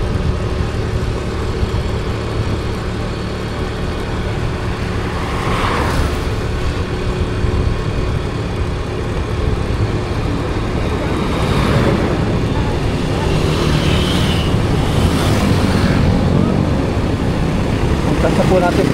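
A borrowed motorcycle is ridden through town, its engine hum steady and mid-level under road and wind noise, with a few passing vehicles and faint voices in the background.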